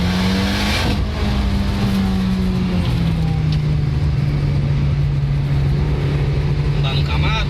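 A Mitsubishi Lancer Evo X engine drones steadily while driving on a track, loud and close from inside the car, with pitch shifting as it changes gear, and voices talking over it.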